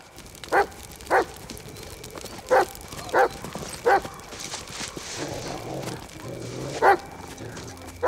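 A dog barks in a series of sharp, single woofs with irregular gaps, fairly close, over rustling background noise and a brief murmur.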